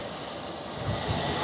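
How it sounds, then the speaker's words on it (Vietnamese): A 2005 Toyota Zace GL engine idling quietly, a soft, steady low rumble with faint broadband hiss, even throughout with no talking. "bà con thấy cục máy sao? Êm không? Máy cực kỳ là êm."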